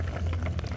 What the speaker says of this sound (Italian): la pasta sta bollendo